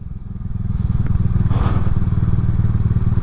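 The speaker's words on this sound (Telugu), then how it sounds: "ఇది మొత్తం ఇప్పుడు ఇంజన్ బ్రేకింగ్ మీదనే మనం వెళ్ళాలా" A motorcycle descends a rough hill road in first gear under engine braking, its low engine pulsing close and loud in a steady rapid chug, with brief clatter and scraping from the bumpy surface.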